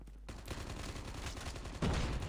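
Turret gunfire in the mobile shooter Call of Duty Mobile, rapid automatic bursts rattling continuously at moderate level after a brief quiet start, growing heavier near the end.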